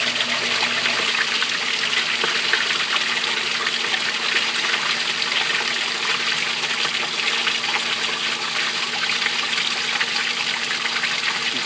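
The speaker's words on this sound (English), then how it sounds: "You see water is actually spilling over the back of the unit from the weir" Water rushes over the weir at the back of a Cetus sieve unit after its pump is shut off, a loud, steady, unbroken gushing that fills the whole stretch.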